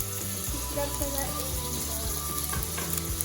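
Mutton biryani ingredients sautéing in a pot with salt added, a continuous loud sizzle with occasional stirring scrapes and clinks throughout.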